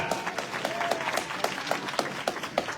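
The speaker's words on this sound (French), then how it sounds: "Acclamons encore Ashmia parce qu'elle est un peu stressée. Acclamons-la." Audience at a Marseille Populaire political meeting ahead of municipal elections applauds a speaker named Ashmia, with steady, continuous clapping from a moderately sized crowd, sharp individual claps standing out close by throughout.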